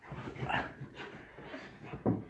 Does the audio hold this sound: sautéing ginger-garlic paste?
no